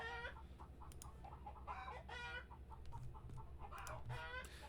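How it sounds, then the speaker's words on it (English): Chickens cluck repeatedly while a rooster crows, a busy farmyard chorus at moderate distance, rising and falling with no talking. "That rooster is going nuts right now."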